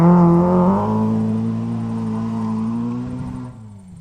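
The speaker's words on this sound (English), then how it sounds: "And that's the Datsun stanza of Darren Snooks and Michael Forshoe, both from Australia." A Datsun Stanza classic rally car roars past on a gravel stage at the Otago Rally, its engine note loud and close at first, then holding a steady drone before fading away.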